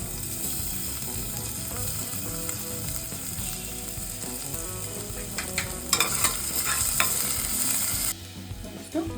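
Mustard seeds, cumin and garlic paste sizzle and crackle steadily in hot oil for paneer pulao, with stirring scrapes and small pops that grow livelier near the end before the frying eases.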